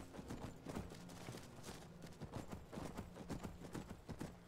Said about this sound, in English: Now, let's hope I can get this horse back without it getting killed.